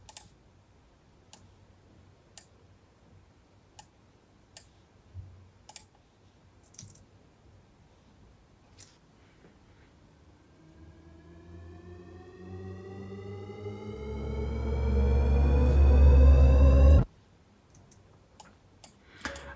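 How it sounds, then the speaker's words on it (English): Isolated riser effect made from a Rabea preset for a metal mix, swelling steadily in pitch and loudness over several seconds to a dense, harmonic peak before cutting off abruptly, with scattered faint clicks around it. "If I isolate the risers, they will sound like this."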